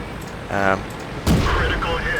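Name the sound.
tank cannon shots in video game World of Tanks, T1E6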